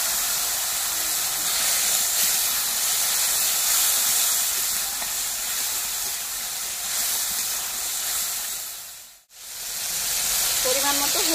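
Water hits a hot pan of shrimp and taro stolon curry with peppercorns, giving a loud, steady sizzle and steamy hiss that continues for several seconds, cuts out briefly near the end, then returns.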